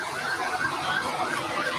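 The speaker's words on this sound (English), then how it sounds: "We have an ambulance coming to take a look at you" An approaching ambulance siren wails in repeated rising and falling sweeps, moderately loud over faint background noise with no clear talk.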